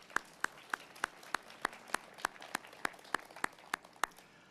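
A single pair of hands claps slowly and evenly, about a dozen sharp claps in a steady rhythm at a city event, faint against a quiet room.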